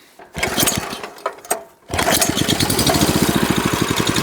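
A walk-behind tractor fitted with a mower attachment starts up after a short cranking burst, then settles into a steady, loud, rapid engine chug close by.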